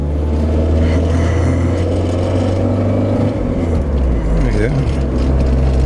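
A 1989 Alfa Romeo Graduate Spider driving in third gear gives a steady, loud low engine drone with road rumble from inside the car, and someone briefly speaks over it.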